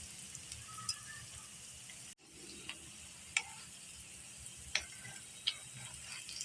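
Aloo tikki potato kababs fry in a pan with a steady, fairly quiet sizzle; a brief dropout breaks it partway through, and a few faint clicks and taps sound over the crackle.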